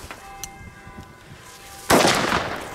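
A Feistel Tannenwald Super A firecracker bursts with a single loud, sharp bang about two seconds in, its broadband crack trailing into a rough decaying rumble after a quieter stretch of faint outdoor background.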